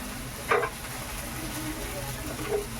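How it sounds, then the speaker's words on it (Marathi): Pav bread toasts with bhaji on a hot pan, a close, steady sizzle with a couple of brief scraping sounds as it is pressed and turned. "आता पावामध्ये भाजी टाकून आपले पाव असे भाजून घ्यायचे"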